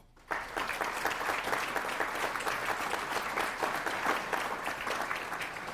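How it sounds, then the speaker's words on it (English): Sustained crowd applause for Athletic Hall of Fame inductees at a high school induction ceremony, a dense, steady patter of many hands starting abruptly and continuing evenly throughout. "Give yourselves a round of applause."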